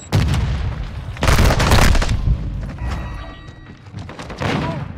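Semtex grenade blast in the shooter game Call of Duty: Modern Warfare II amid a firefight, heavy booming bursts and rattling gunfire layered close and loud over a few seconds.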